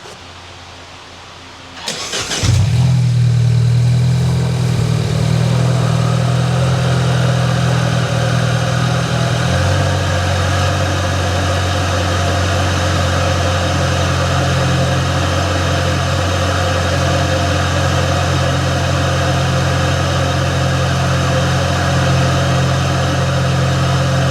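A Mini's engine cranks and fires up, then settles into a loud steady idle heard close to the intake after fitting a new eBay intercooler, with the revs dropping slightly about ten seconds in.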